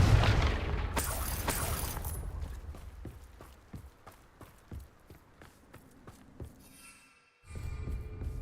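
A Confringo fire spell in Hogwarts Legacy bursts with a loud boom and rumbling blast at the start, fading into a run of sharp, evenly spaced thuds and footsteps before another swell of noise.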